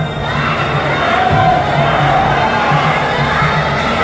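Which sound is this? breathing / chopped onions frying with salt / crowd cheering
crowd cheering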